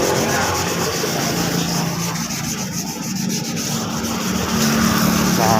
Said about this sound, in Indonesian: Ini kita gosok saja seperti ini sampai halus.